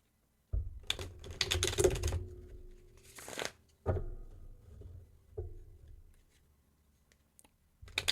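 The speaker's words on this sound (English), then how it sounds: "Shuffle the deck." Tarot cards riffle and slap together in quick papery bursts, followed by a few softer taps and shuffles with quiet gaps between.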